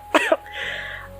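A person coughs twice in quick succession, close and fairly loud, followed by a soft breathy hiss and faint background noise.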